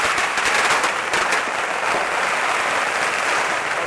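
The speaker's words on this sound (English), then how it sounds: "There's an awful lot of fireworks going off right in front of us" Dense, continuous crackling and popping of fireworks and firecrackers at a street parade during the closing night of the Phuket Vegetarian Festival, loud and close, with crowd noise blended into the steady barrage.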